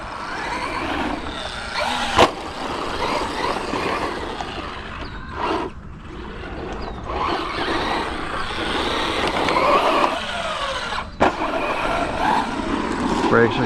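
A Traxxas Stampede 4x4 VX3 brushless RC monster truck drives around, its electric motor whining as it speeds up and slows, with someone talking over it.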